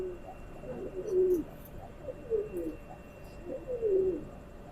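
Soft, repeated cooing from a Kamagar pigeon pair, the male calling in three or four low, rolling coos at a steady pace, close by with a faint background hum.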